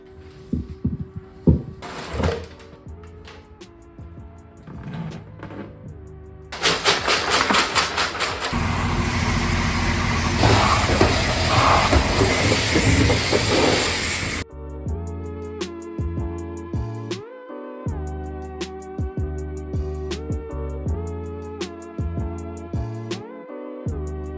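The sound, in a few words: shaking sealed rusty gas tank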